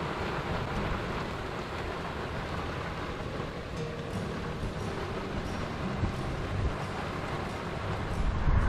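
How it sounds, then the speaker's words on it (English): Raindrops falling steadily on an outdoor deck in New Smyrna Beach, a dense, even wash of patter that stays constant throughout with no voices. "I love the sound of water or raindrops bouncing off the deck."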